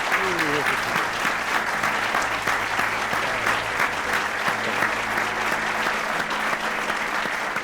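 Applause from a studio audience for Sashko Kocev on a Macedonian talk show, steady dense clapping that fills the whole stretch at full strength.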